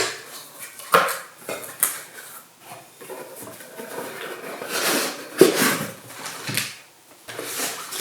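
A lightweight, compact Naturehike camping pot for hiking is handled up close, giving a few scattered metallic clinks and knocks with softer rustling and bumps between them.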